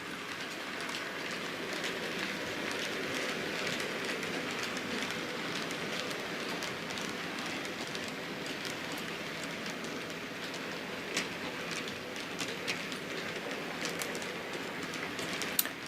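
A Bachmann 57xx pannier tank model locomotive runs on track, giving a steady, faint, hissing rattle of wheels on rails that continues without a break and has a few small clicks.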